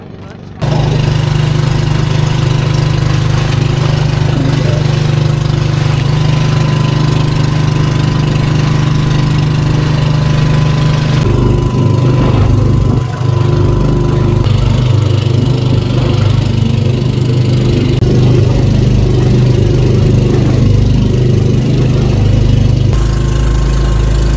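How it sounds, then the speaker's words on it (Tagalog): A boat engine on an island-hopping tour at Hundred Islands, Alaminos, Pangasinan drones and chugs continuously at close range with a low rumble, running without pause for the whole stretch. "Eto na guys, yung sasakyan natin na bangka."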